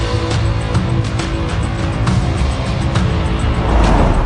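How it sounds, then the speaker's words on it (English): Jaguar I-Pace electric car driving back onto the track after a pit stop, a loud continuous rolling rumble of motion and tyre noise that swells slightly toward the end, with no talking. "Pit stop complete, the car heads back to the track"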